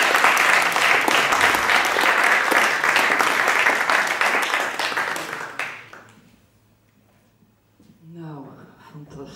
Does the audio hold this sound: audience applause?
yes